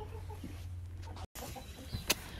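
Light Brahma chickens cluck briefly and softly nearby in a coop, over a low steady hum, with one sharp short peep near the end.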